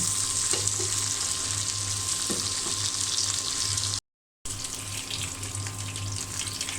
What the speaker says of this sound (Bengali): তো মাছটা ভেজে নেব।